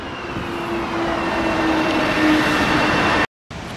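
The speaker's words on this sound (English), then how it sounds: "Here comes the train." A Long Island Rail Road train pulls into a Ronkonkoma station with a steady loud rumble and a sustained high wheel squeal, broken by a brief cut near the end.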